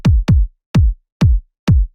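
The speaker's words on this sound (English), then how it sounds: "The next element I worked on was the kick. It sounds like this." A layered house-remix kick drum sample, built from a sampled body and a separate higher top-end kick, hits five times in a steady, evenly spaced pulse, each punchy and loud with a short booming tail, alone without talk.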